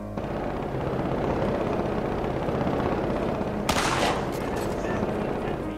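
Rapid gunfire rattles in the battle royale shooter Cuisine Royale, dense and continuous, with a sharper burst near the end and no clear speech over it.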